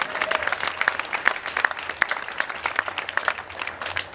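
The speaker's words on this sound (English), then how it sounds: "I think we all need to give her a big round of applause" Steady applause from a seated audience at an outdoor campus dedication ceremony in San Leandro, dense, even clapping that holds at a constant level for the whole stretch with no voices rising above it.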